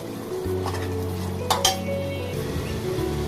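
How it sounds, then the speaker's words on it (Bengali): Spice paste frying in a pan, a low sizzle with spoon clinks and scrapes against the metal over a steady droning hum, heard close up without speech. "তো মশলাটা ভালো করে কষিয়ে তারপর আপনাদের সঙ্গে আসছি।"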